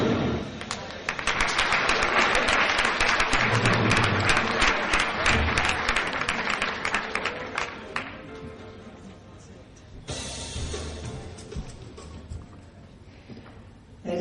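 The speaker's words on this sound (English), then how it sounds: "Give them another big round of applause, please." Sustained applause fills a cricket awards ceremony hall, loud and dense for about eight seconds, then fading into scattered claps before a brief second burst.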